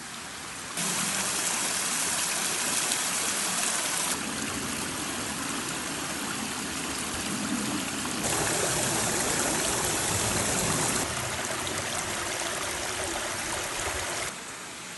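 Rushing water from a nearby mountain stream near Kuratake-yama in Yamanashi, Japan, a steady bright babble that swells and shifts slightly in level, with no voices.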